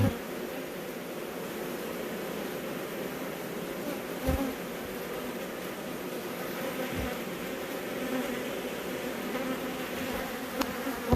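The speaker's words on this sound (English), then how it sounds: "There's so many frickin' bees." A dense, continuous buzzing of many bees fills the air steadily, loud and close, with a few brief low thumps along the way.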